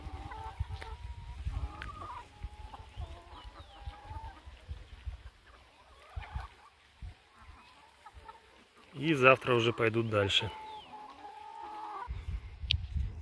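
Free-range pasture hens clucking and squawking in a farmyard, with a loud burst of agitated calls in the middle as one hen darts out, while someone talks quietly throughout.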